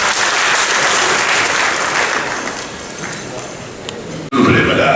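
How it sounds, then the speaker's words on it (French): An audience at a ceremony breaks into loud, full applause that holds for about four seconds, then cuts briefly before a burst of noise resumes. "sous vos applaudissements"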